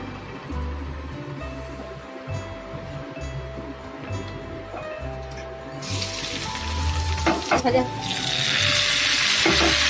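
Oil sizzling in a hot kadai on a gas stove for spicy aloo dum, a low background hiss that swells into a loud, bright, continuous sizzle.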